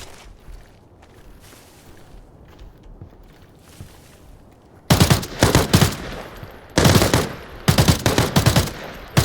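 Automatic gunfire in the video game Arena Breakout rattles out in loud bursts after a quieter opening stretch, with repeated rapid volleys close up and no talking.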